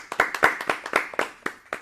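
Studio audience clapping for a young badminton player guest on a children's program, a series of distinct, fairly close hand claps in an uneven rhythm from a modest group.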